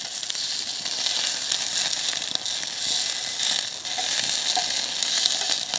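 Sausages fry in a pan with a dense, even sizzle and hiss, stirred now and then with faint scraping, close and steady throughout with no talking.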